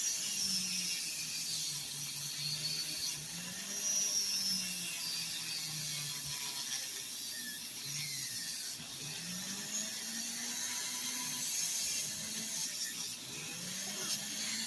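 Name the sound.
Dremel polishing wheel polishing wire wrapped jewelry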